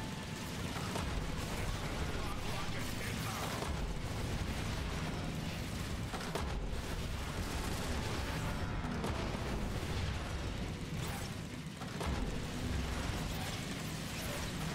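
Explosions and heavy weapon fire in the video game Transformers War for Cybertron, a dense, continuous roar of blasts and rumbling booms at steady high volume throughout.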